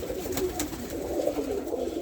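Racing pigeons in a loft coo steadily in low, murmuring tones throughout, several birds overlapping at close range with no talking.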